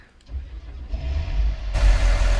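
A Versatile 620 tractor with 626 horsepower in Farming Simulator 19 starts up. Its low engine rumble builds after a brief quiet start, then settles into a loud, steady, close idle that grows rougher and stronger toward the end.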